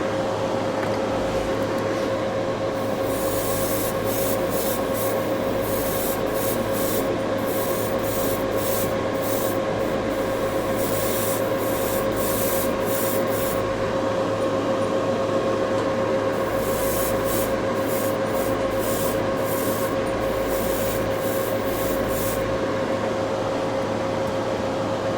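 A Gaahleri GHAD-68 airbrush lays down another coat of paint, producing a loud, continuous hiss of spraying air over a steady compressor hum, with the airflow pulsing in short bursts as the trigger is worked.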